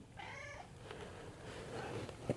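A pet cat gives one short, moderately faint meow early on, heard over a steady indoor background hum, followed by a small knock.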